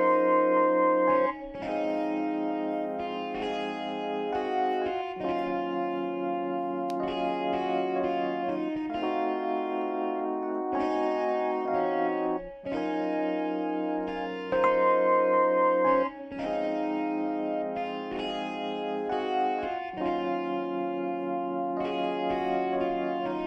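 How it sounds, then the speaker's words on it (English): A neo-soul R&B melody pattern built in FL Studio plays alone: layered electric keys with effects form sustained chords and melodic lines, with steady rhythmic chord changes and brief pauses between phrases. "that, my friends, is how you make a neo-soul R&B melody pattern"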